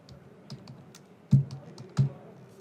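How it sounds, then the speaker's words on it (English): Keys tapped on a computer keyboard while entering a form, a handful of sparse, close clicks with two heavier thumps, quiet and without speech. "So here I'm typing the application's name as, let's say, Typeform"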